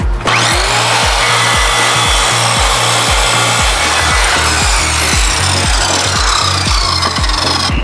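A circular saw cuts through cement weatherboard with a loud, close, continuous whining grind. Regular low pulses run through the steady roar from start to finish, with no talking.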